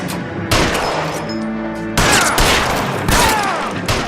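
Loud bursts of gunfire from the L.A. Noire video game, with several separate volleys of rapid shots breaking in and out over the game's background sound.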